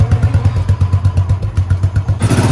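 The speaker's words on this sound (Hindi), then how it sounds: "इस मौसम में बाइक भी ना ठंडी पड़ जाती है, तो इसको ना थोड़ा टाइम स्टार्ट करके रखना ही पड़ता है" A Royal Enfield Bullet motorcycle fitted with a loud aftermarket silencer idles on a cold 5 °C morning, its single-cylinder thump beating in a steady, close, loud rhythm before the exhaust note brightens near the end.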